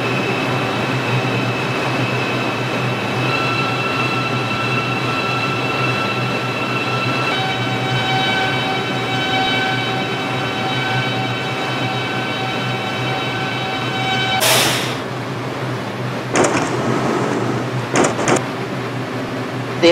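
A New York subway 6 local train in a video game rumbles steadily with a low droning hum and faint tonal whine, followed near the end by a few sharp hissing bursts like brakes or doors.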